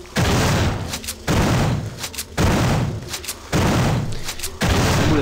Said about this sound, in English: Warum streut die Shotgun eigentlich nicht?